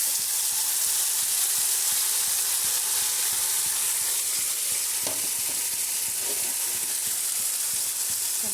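Ivy gourd frying with chana dal in an oiled pan gives a continuous dense sizzle and hiss, with a few soft stirring clinks near the end.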